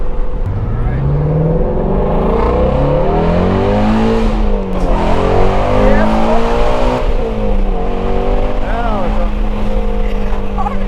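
A loud Ford Mustang GT350R engine revs hard through rising gear pulls, exhaust roaring and dropping between shifts, with occasional voices underneath.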